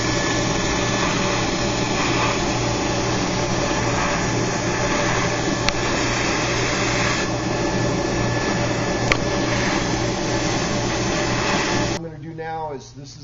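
A CNC mill cuts parts with a 2 mm single-flute end mill, producing a loud, steady whining drone throughout that drops away near the end as a voice begins speaking.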